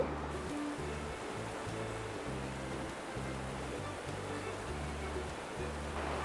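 A river flows in a steady broadband rush of water, continuous and unbroken, with a low rumbling pulse underneath throughout.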